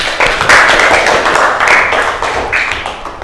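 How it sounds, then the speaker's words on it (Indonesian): Students in a classroom clapping in short rhythmic bursts, a close, choppy patter of hands that comes in quick waves over a few seconds. "Tepuk tangan dulu buat kita semuanya"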